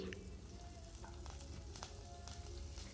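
Cumin, mustard seeds and onion sizzling in hot oil in a pressure cooker, a faint, continuous crackling fry with a few soft scrapes of stirring.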